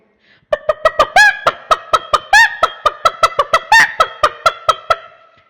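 Performed vocally by a beatboxer at a live show, an imitation of a hen or chicken comes as a series of sharp, rhythmic clucks with a few higher squawking calls mixed in, loud and close.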